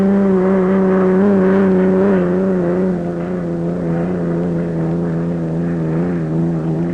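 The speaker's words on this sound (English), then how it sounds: "This is a big boat." A loud, steady engine drone with a deep harmonic hum holds throughout from the Thriftway Too racing hydroplane, a big, heavy boat, its powerful motor running continuously nearby.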